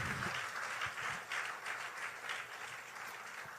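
A church congregation applauds, a dense, steady wash of many hands clapping at moderate loudness, sustained throughout without talk.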